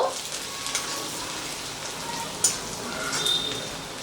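Chopped ginger and garlic fry in oil, giving a steady, close hiss and crackle like rain, with a few sharper pops.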